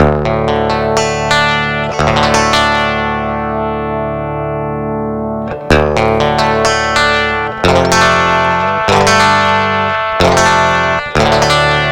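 An instrument run through an Endorphin.es Golden Master multiband processor with the mids raised rings out in sustained, distorted, reverberant notes, struck again in several loud attacks that decay between hits, with no voice.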